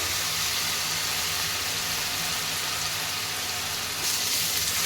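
Ginger-garlic paste frying in oil for a Bengali rui fish kalia, a steady dense sizzle that stays even and fairly loud throughout with no talking.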